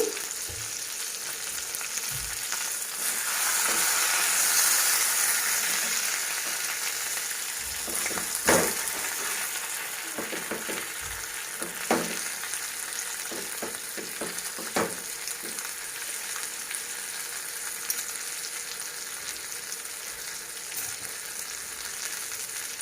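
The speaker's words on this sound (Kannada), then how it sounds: "ಇವಾಗ ಇನ್ನೊಂದು ಸೈಡು ಒಂದು ತ್ರೀ ಮಿನಿಟ್ಸ್ ಬೇಯಬೇಕು ಈ ಮೀನು ಸ್ವಲ್ಪ ದಪ್ಪಗಿದೆ" Mackerel fillets frying in a pan on their second side, a steady soft sizzle and crackle of hot oil with occasional clinks and stirring scrapes over a long stretch.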